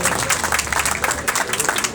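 Vigorous audience applause greets an honoured guest at a Saraswati Puja function, a dense patter of many hands clapping throughout, fairly loud and continuous.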